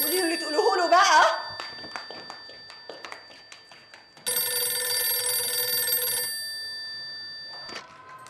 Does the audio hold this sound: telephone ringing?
yes